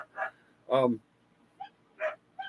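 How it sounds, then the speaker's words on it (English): Dogs barking and whimpering excitedly at feeding time, with a few scattered yips and one longer bark-like burst, fairly close with quiet gaps between. "I think Paramount was feeding the dogs, and they get a little crazy when they get fed."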